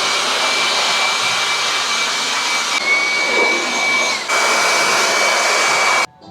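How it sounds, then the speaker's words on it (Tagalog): An electric blower drying a freshly washed motorcycle roars in a steady loud whoosh with a thin high whine running through it, holding almost unchanged until it cuts off abruptly near the end. "Blower naman to."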